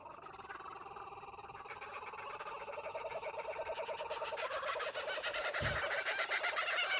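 Kookaburra calls ring out in a video game trailer, a cackling, rising chorus of repeated bird laughter that swells louder over a music bed, with a sharp burst near the end.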